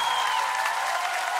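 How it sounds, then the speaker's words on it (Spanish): Audience applause at a grupera concert, a steady wash of clapping sustained at even loudness throughout, with a faint tonal hum running beneath it. "¡Aplauso fuerte a Julieta,"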